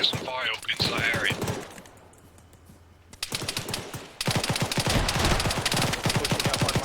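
Rapid automatic gunfire in an Arma 3 firefight, dense bursts of shots after a brief lull, with some talk at the start.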